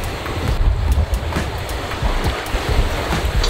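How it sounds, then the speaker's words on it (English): Waves lap steadily against a sailboat hull on quiet open water at sunset, a close, continuous wash of water with light wind noise and no voices. "waves lapping against the hull"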